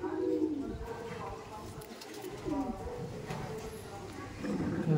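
Madrasi pigeons coo in low, repeated throaty rolls close by, with someone speaking over and between the calls.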